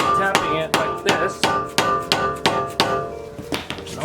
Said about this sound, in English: I'm gonna hammer it down with a hammer